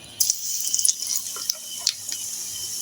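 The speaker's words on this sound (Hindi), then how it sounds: "ये देखिए जीरे का तड़का लग रहा है" Cumin seeds crackle and sizzle in hot oil for a tadka over low heat, with a dense run of quick pops and spits close up, no talking.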